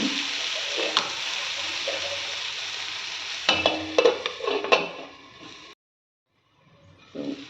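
Red pasta sauce with chilli powder simmers in a covered pan, giving a steady close bubbling sizzle with scattered sharp clinks and knocks, dropping briefly to near silence before faint sizzling resumes.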